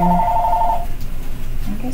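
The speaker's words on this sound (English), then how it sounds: "Sorry about the phone." A telephone rings indoors with a short electronic trill burst, then quieter room noise follows, with no voices.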